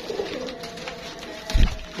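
Pigeons cooing nearby in short soft calls, with some shuffling and a low thump near the end, and no speech.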